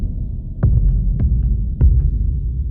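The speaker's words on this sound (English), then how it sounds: "And we also have some sub-kick booms. These are quite loud." Deep sub-kick booms from the Project BRAVO sample library, three heavy low thuds spaced roughly a second apart over a loud, constant throbbing bass rumble, with no voices.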